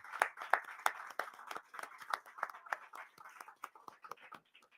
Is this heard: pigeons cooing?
no